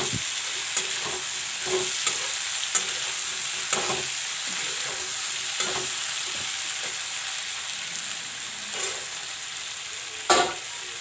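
Barbatti (long beans) and potato sizzle and fry steadily in a pan, with repeated sharp scraping clicks of a spatula stirring at irregular intervals and a louder clatter near the end; no voices.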